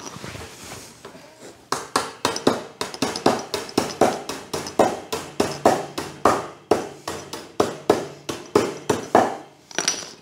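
Repeated hammer blows ringing out in quick irregular bursts, loud and close, with short pauses between runs of strikes.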